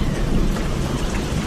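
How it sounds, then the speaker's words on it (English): Steady rain with rumbling thunder on open water during a fishing outing, a loud continuous broadband wash with low rolling rumble throughout, no voices. "It's starting to rain."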